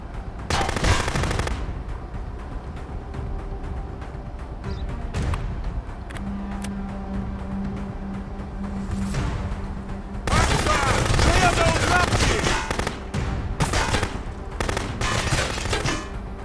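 Bursts of rapid automatic gunfire in the video game Contraband Police crackle in loud clusters, separated by quieter stretches with a steady hum and occasional single shots.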